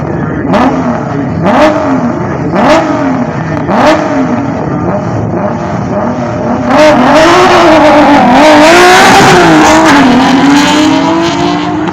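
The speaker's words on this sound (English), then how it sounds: "we'll see the little Torana and the BMW taking each other on shortly" A BMW E30 race car with a 175 cubic inch M20B29 engine and a Holden Torana accelerate hard on a circuit, their engines rising and falling through the gears in a loud, continuous snarl that grows fuller near the end.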